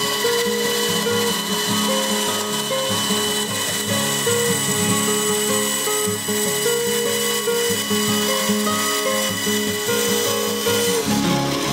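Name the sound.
band saw cutting a knife handle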